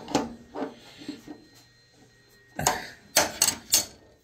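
A wrench working loose the arbor nut on a table saw blade, the blade held by a tent stake: a few soft clicks and knocks, then several sharp metallic clanks close by.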